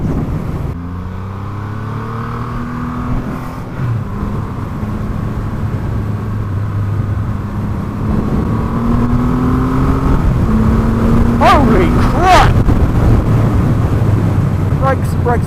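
A Triumph Rocket 3 R with its 2500cc engine cruises at speed in fourth gear, a steady, loud engine drone mixed with rushing wind, with no one talking.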